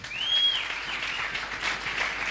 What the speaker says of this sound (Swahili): Tumpe Bwana sadaka mzuri ya makofi